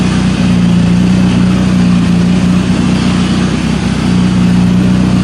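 A 1988 Honda CRX DX fitted with a swapped K20 engine idles steadily and loudly up close, a constant low rumble with slight fluctuations and no talking.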